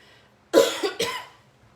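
A single person coughs twice in quick succession indoors, a short harsh burst followed by a second cough, close and fairly loud against a quiet room.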